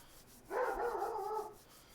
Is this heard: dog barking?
yes